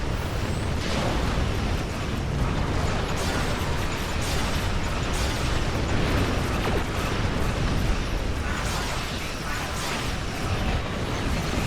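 Transphasic torpedoes strike a starship hull in the space battle game Star Trek Online, a dense, continuous rumble of explosions and crackling impacts, loud and unbroken throughout.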